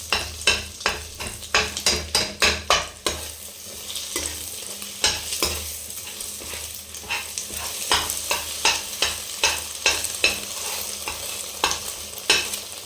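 Egg omelette sizzling in a pan for chicken fried rice while a utensil chops it into pieces, a rapid run of sharp metallic scrapes and taps over steady frying hiss, then looser stirring clinks.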